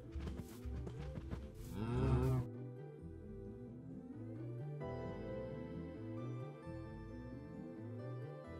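Minecraft cows moo in the video game, with several short, distinct lowing calls in the first two seconds. Softer repeated game sounds continue beneath steady background music afterward.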